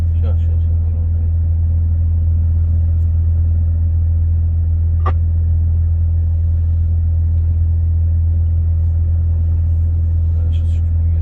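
A Volvo FH 540 truck on a winter road, fitted with one snow chain, with its engine pulling hard in a steady low rumble heard from inside the cab, and voices talking over it.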